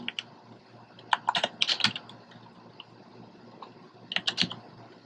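A computer keyboard is typed on in two short clusters of rapid, close clicks, separated by a quiet pause, with no talking.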